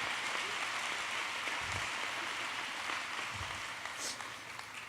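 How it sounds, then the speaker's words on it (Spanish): Audience applause in a church service or sermon setting, a steady, broad wash of clapping sustained throughout and easing slightly near the end. "¿Por qué no le damos un aplauso a Dios?"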